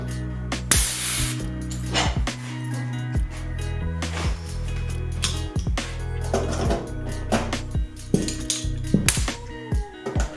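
Pneumatic rivet gun running on an air compressor at about 60 psi, pulling rivets into aluminum parts of a Sonex aircraft kit held with clecos: a series of sharp close pops and clinks with air hiss between them.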